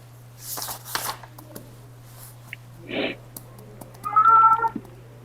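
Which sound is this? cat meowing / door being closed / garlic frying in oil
cat meowing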